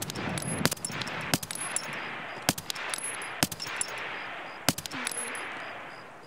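A VSS rifle firing subsonic ammunition in Escape from Tarkov: several sharp, muffled shots spaced irregularly, some in quick pairs, over a steady background hiss, with no voices.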